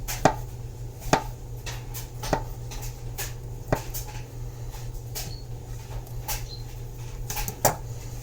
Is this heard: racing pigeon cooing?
no